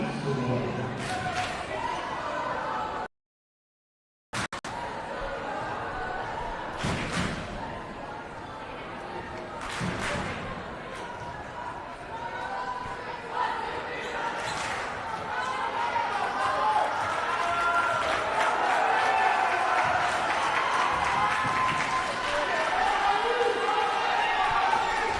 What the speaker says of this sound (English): this crowd is so loud, I can barely hear myself think